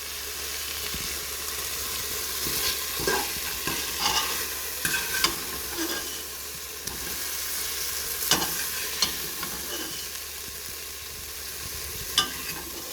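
Pieces of turkey neck for Jamaican curry frying in a pot, a constant soft sizzle with scattered scrapes and clinks from stirring, close and without voices.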